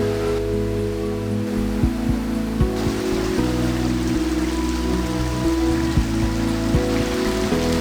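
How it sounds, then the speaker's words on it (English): Tukad Cepung waterfall inside a cave in Bali makes a steady, close rush of falling water with a constant wash of spray and splashing, heard alone throughout. "This is the waterfall everyone's talking about."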